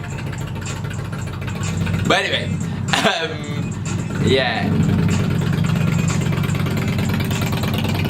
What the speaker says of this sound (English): there's a big motorbike behind me